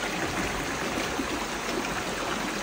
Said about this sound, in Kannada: ಇದೆ ಗಾಯ್ಸ್ ಸ್ಟ್ರೀಮು. ನೀರಿಲ್ಲ, ಕಮ್ಮಿ ಇದೆ.